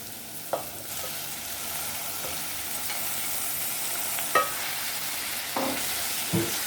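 Tinned fish fries with browned onions in a pot, a steady close sizzle broken by several sharp spoon knocks and scrapes against the metal, with no voices.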